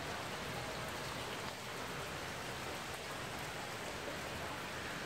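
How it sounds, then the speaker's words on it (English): Heavy rain pours steadily during a rainstorm in Cuenca, Ecuador, a dense, even hiss of drops drumming on surfaces close by, continuous and loud throughout with no voices. "Another day, another rainstorm."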